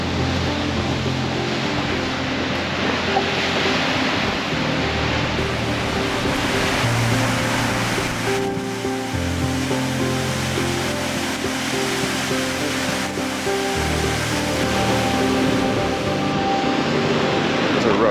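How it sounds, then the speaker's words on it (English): Goðafoss waterfall in Iceland roars in a loud, unbroken rush of falling water that holds steady throughout, with no voices over it. "It's Goðafoss waterfall."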